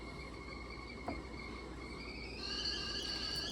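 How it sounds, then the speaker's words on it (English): A high, steady whistle holds over a background hiss, then rises in pitch and grows a little louder near the end, like a kettle coming to the boil. "you can hear my tea kettle whistling in the background"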